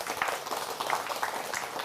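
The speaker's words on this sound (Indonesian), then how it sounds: "Nah, ini sunat tepuk tangan berarti selesai bicara." An audience applauds a religious preacher's talk with a dense, steady patter of many hands clapping at moderate loudness. The clapping runs through the whole moment.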